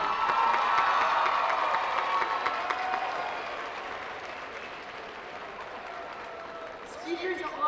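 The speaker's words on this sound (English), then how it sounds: "I'd like all the graduates to give an applause to their parents and those who have stuck by." Graduates applaud and cheer at a spring commencement ceremony, a loud, dense wash of clapping and crowd voices that gradually thins and fades, with a few scattered whoops near the end.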